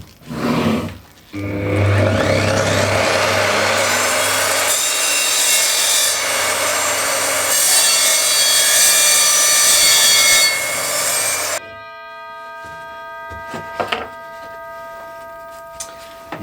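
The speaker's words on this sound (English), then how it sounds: "Okay, chunk of wood with screws in it." An Evolution R255 sliding mitre saw cuts through a chunk of wood containing screws. A loud, steady whining, grinding cut lasts about ten seconds, then the motor winds down with a fading whine and a few light clunks.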